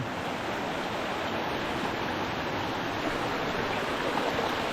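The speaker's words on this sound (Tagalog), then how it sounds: "Yun yung bukal mga utol." A large natural spring flows steadily beside a riverbank, a constant close rushing wash of water with no pauses or voices.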